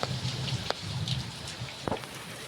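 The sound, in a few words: rain falling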